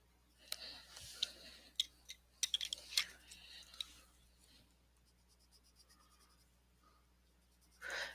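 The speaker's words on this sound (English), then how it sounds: "I am putting quite a bit of pressure on my pencil." A coloring pencil is pressed hard on paper while shading, making a series of close, scratchy strokes and taps in irregular bursts, with quieter stretches in between.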